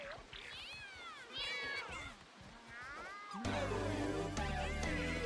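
Cartoonish cats meow in the video game Mewgenics, with several rising and falling mews in quick succession, followed by a brighter, busier burst of game sound effects.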